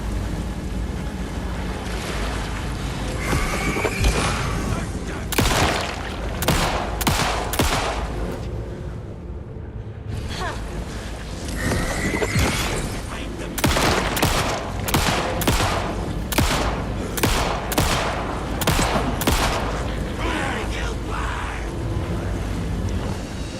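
Alan Wake 2 gunfire, from a player who has a shotgun, cracks out in many loud, sharp bursts. The shots come in uneven clusters over a constant roaring, windy game background.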